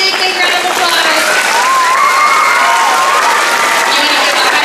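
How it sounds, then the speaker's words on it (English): A school assembly audience of children bursts into loud applause and cheering, clapping mixed with excited shouts and a whistle-like tone throughout. "give me a big round of applause"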